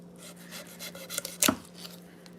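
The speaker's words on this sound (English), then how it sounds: "the fillet knife will cut through the little pin bones" A fillet knife draws through salmon and its small pin bones, making soft scraping strokes and one sharper crunching cut near the middle, close and brief.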